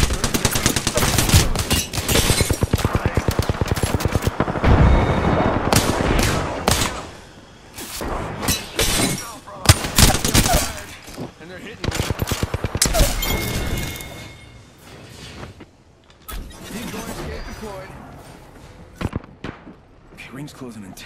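Video game gunfire rattles in dense automatic bursts and single sharp shots, loud and close, with brief lulls and voices talking over the action.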